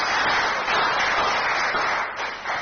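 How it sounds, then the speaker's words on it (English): A crowd at a Nigerian youth political gathering applauds steadily, a dense and even wash of clapping that stays loud and close for the whole stretch, with no voices over it. "Let's give a round of applause for Mandam, please."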